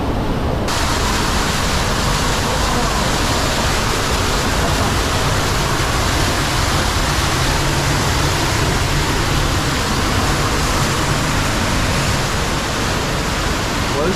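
A waterfall inside a forest cave roars as a loud, constant broadband rush that fills the space without pause, close and overwhelming.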